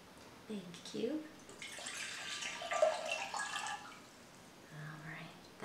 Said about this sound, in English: Yeah, the same amount of water every time. Pour it into a different shaped container.